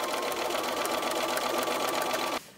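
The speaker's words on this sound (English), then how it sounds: "Sew 1/4-inch seam along the edge from the center to the outside of the block." A sewing machine runs a steady quarter-inch seam along the edge of a string-pieced quilt block, its rapid even stitching loud and close, then stops abruptly near the end.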